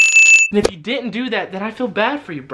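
A bright, ringing notification-bell chime sounds briefly with a sharp ding, then someone talks continuously over the rest.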